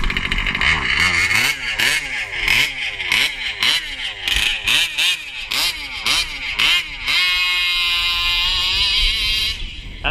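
A Baja pull-start minibike engine revs hard at full throttle, climbing again and again in quick rising pulls before holding a loud, buzzing high pitch, close up with no voices.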